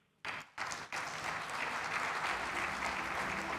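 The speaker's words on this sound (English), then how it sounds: "another round of applause for Honorable Henry Musa Paka, Chairman of the ECOWAS Council of Ministers" Audience applause at the closing ceremony of the West Africa Rice Investment Roundtable, starting after a short silence and swelling into sustained, even clapping from a large crowd.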